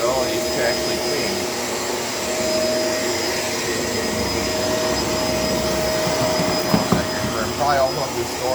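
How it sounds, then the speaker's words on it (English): A Shark LA702 bagless vacuum cleaner runs with a steady, loud motor whine and a sustained high tone, holding constant throughout, with a few brief bumps near the end as it moves over the floor. "for this being a bagless vacuum, I'm really impressed with this ability to actually clean"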